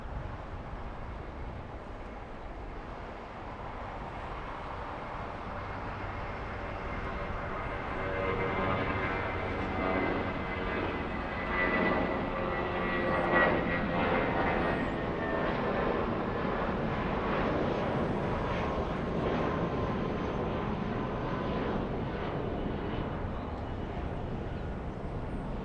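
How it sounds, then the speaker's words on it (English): Singapore Airlines Boeing 777 airliner racing down the runway at LAX on its takeoff roll, a steady distant jet engine roar that gradually swells and holds, heard alone. "we have the Singaporean 777 already on the move. Racing down the runway, flying back to Narita."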